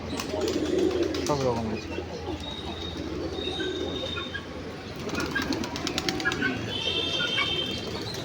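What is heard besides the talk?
fantail pigeons cooing, white, brown, black and red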